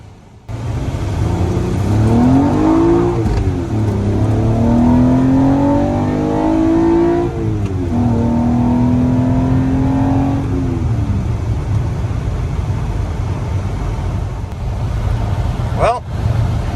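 A manual-swapped Toyota Camry with a 2GR-FE V6 and E351 gearbox drives around the block, its engine note rising and falling steadily through gear changes and staying close and loud throughout.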